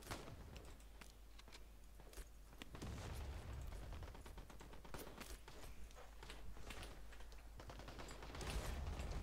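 Mortar shells burst during a battle in the war game Call to Arms, a faint, continuous stretch of rumbling blasts and crackling impacts with no clear pause between them.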